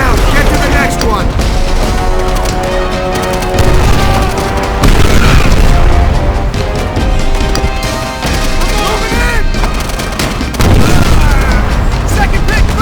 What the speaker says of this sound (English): Grab a mortar shell and throw it!